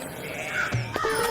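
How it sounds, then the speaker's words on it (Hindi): Cartoon bird sound effect, a short pair of chirpy, caw-like calls rising over a soft background hum, brief and fairly close. "चिड़िया चहक रही है।"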